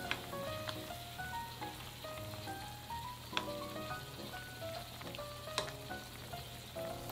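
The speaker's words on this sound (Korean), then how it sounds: "중간불로 10분 정도 푹 끓이겠습니다" Bean sprouts and bracken simmering in a pot over medium heat give a steady, quiet bubbling hiss, with a few faint clicks rising above it and no voices.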